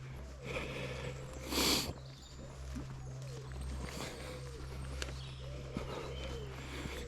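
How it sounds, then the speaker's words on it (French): One sharp, close sniff from a person out in cold air around 2 degrees on a rural road, standing out from faint outdoor ambience. "Excusez-moi, je renifle parce que"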